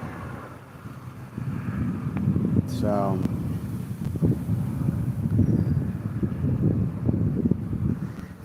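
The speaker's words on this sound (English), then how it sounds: "it's windy here" Wind buffets an outdoor microphone in a steady, low, rumbling roar that gusts unevenly for several seconds, while someone speaks briefly over it.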